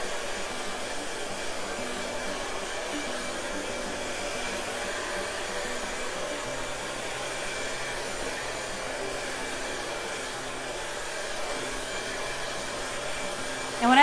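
A hot-air drying tool blows steadily on fresh paint on a handmade striped, stenciled sign, a constant close whooshing roar that holds unbroken throughout with no voices.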